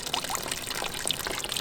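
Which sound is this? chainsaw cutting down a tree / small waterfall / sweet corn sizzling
small waterfall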